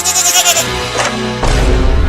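Goat bleating in a rural village comedy chase scene, a few wavering bleats early on followed by louder, rougher calls near the end, close and fairly loud.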